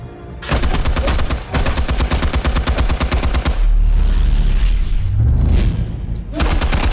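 AK-47 fire in a Batman video game rattles out in loud, rapid automatic bursts, a long sustained volley followed by a roaring impact and then another burst, all close and intense.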